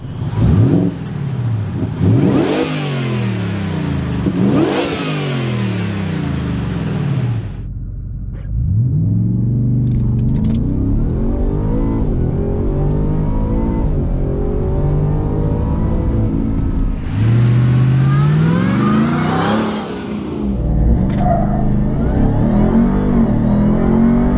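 A 2023 Ford F-150 Raptor R with a supercharged V8 is driven hard, heard from inside. The engine roars loudly through repeated rising revs and gear changes, drops briefly, then builds again to another loud pull.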